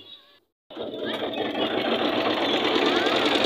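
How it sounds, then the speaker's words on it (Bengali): A steady, loud trawler boat engine drone with a rhythmic chugging starts abruptly after a brief pause and runs continuously, close by, while crossing the Brahmaputra River. "ট্রলারে মেশিন স্টার্ট দিয়ে দিয়েছে"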